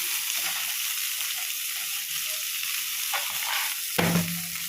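Vegetables sautéing in a pan for sambar: a continuous, even sizzle with a few soft stirring sounds and a brief clatter near the end, with no voices.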